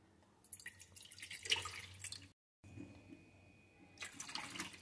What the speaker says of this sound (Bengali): তার ভিতরে প্রথমে আমি দিয়ে দেব জল।